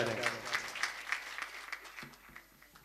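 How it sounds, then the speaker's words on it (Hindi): An audience at a Rajasthani kavi sammelan breaks into steady, rhythmic applause that gradually fades, with a voice speaking faintly underneath. "सुनील के लिए जोरदार तालियां बजा दें।"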